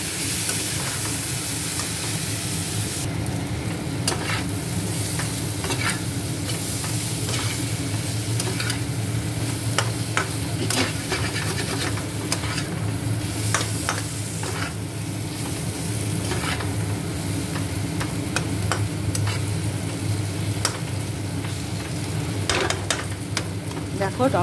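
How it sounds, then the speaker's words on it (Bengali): Vegetables and spices sautéed in a pan, stirred steadily as they cook down, with a dense continuous sizzle and frequent scraping clicks of the spoon against the pan throughout. "ভালো করে কষিয়ে নেব।"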